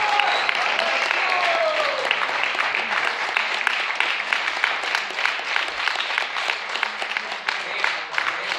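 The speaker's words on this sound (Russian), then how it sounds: "Аплодисменты!" Spectators at a Russian savate championship final clap in a steady, moderately loud wash of applause, with a voice over it at the start.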